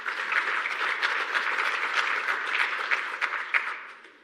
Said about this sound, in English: please give them a round of applause for all the work they have done